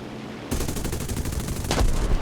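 Rapid aircraft machine-gun fire from a P-36C or I-16 fighter in the War Thunder flight simulator, a dense rattling burst that starts abruptly and continues steadily, loud and close, with a heavier thump near the end.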